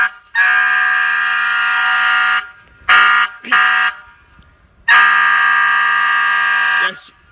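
Powercall siren tones play through a USB6100 100-watt MP3 amplifier, a loud, steady, harsh electronic blare in long bursts, separated by two short blasts and brief silences.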